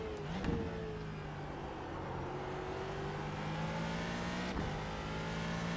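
A Ford GT2 race car engine in the iRacing sim at the Nurburgring GP circuit drones steadily, then rises in pitch as it accelerates, with a brief rev blip near the start and another sharp shift later.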